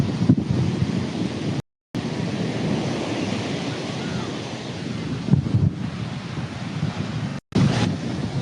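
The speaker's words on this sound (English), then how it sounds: "I've got the microphone in very close here because it is windy. It is blowing" Heavy wind buffeting a close microphone, a continuous low rumbling roar with brief dropouts and gusty surges.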